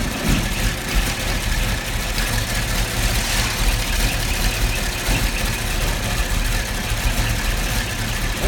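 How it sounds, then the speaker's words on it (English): A GM LS V8 engine idles steadily nearby with a persistent ticking from the valve train running through its even, dense rumble, and no voices. "Sounds like we have some valve train noise."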